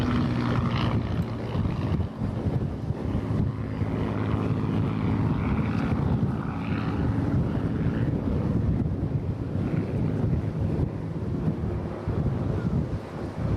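Hawker Hurricane flying at the Eastbourne airshow, a steady distant propeller drone heavily mixed with wind buffeting the microphone throughout, no talking.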